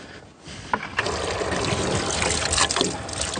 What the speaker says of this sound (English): Get your water, Gus.